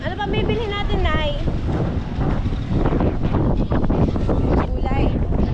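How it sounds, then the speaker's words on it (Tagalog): Strong wind blusters against the microphone in a steady, loud, low rumble that buffets throughout, with people talking underneath. "Lakas ng hangin."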